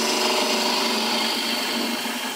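A gouge cuts a hexagon-style wooden bowl spinning on a lathe, making a loud, continuous rough cut: an even, rushing, grinding whir with no pauses and no voices.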